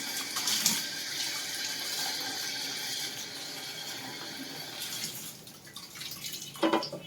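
Tap water runs in a continuous hissing stream while pastry sheets are wetted, with a brief splash toward the end.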